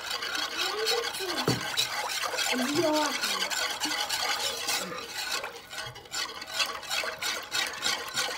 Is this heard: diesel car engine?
no